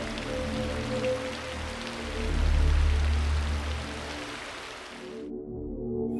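Steady rain pours down, loud and dense, building to its heaviest in the middle before cutting off abruptly near the end.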